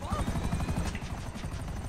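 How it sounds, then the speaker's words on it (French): Helicopter from the Grand Theft Auto Online video game, a steady rotor thump and engine whine running throughout under someone talking. "Je prends son hélico."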